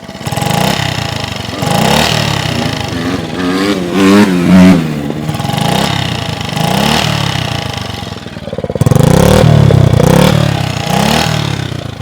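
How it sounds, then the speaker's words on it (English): A 1966 Honda C100 Super Cub's small single-cylinder engine runs steadily with a busy, sewing-machine-like clatter through a cut-tip exhaust pipe, loud and close for the whole stretch, with a brief surge near the end. "You should also hear the sewing machine engine."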